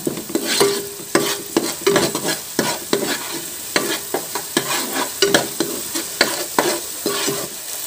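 Chili powder stirred into frying chicken masala for Bengali chicken kosha, a spoon scraping the pan in repeated strokes over a steady close sizzle, with no talking.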